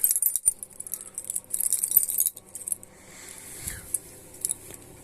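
Metal keys jangle in short bursts close by in a garage, with bright clinking in the first half, quieter rattles later, and no talking.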